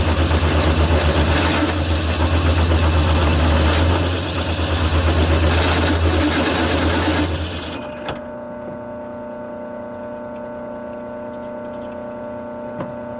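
A power drill bores holes for foundation anchors, a loud whirring motor that runs steadily for about eight seconds, dips once partway through, then stops, leaving a low steady hum.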